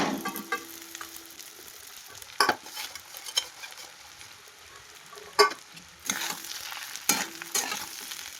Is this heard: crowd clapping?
no